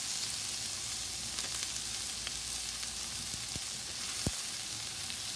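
Mushrooms sizzle steadily in a hot stir fry pan, a constant close crackle and hiss with a few sharp pops and clicks, no voices over it.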